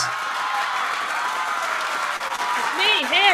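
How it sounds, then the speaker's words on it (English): Applause and cheering for a special guest on an online builder series show, a dense crowd-like clapping texture that runs under the host's voice, with a brief tone near the end. "Give a round of an applause to"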